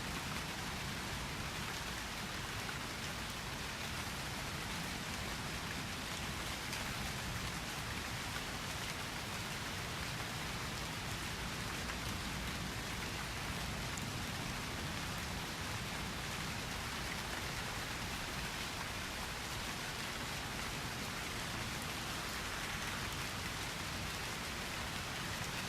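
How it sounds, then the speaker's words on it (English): Steady rain falling on a beach in North Naples, Florida, a dense, even hiss that holds at a constant level throughout, with no voices. "Can you hear the sound of the rain?"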